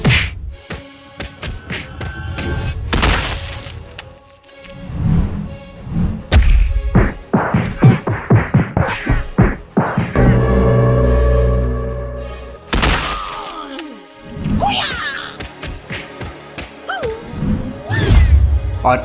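Punchy kick and fight impact effects from a staged brawl, a rapid series of loud thuds, whacks and crashes in bursty clusters with brief pauses and sustained rumbling hits between them.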